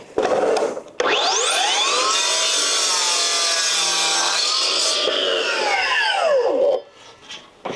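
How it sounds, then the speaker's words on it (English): An AEG miter saw with a wider blade slices through broad 140mm decking boards, a loud continuous whine with falling and rising pitch sweeps as the blade bites, from about one second to nearly seven, then winding down. "this is my first time using the AEG miter saw"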